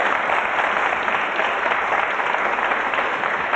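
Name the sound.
applause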